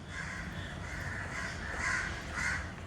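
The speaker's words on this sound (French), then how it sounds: "le comportement étrange des corbeaux" Crows in Salem caw harshly, a few loud, hoarse calls repeating close by over a steady outdoor background.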